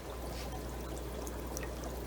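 A continuous soft trickle of water running into an aquarium during drip acclimation of bristlenose pleco fish, faint and steady with a low hum beneath.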